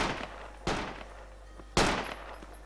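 Two loud, sharp shots ring out about a second apart in the Project Reality military shooter, each a sudden bang with a decaying tail over a constant low hum.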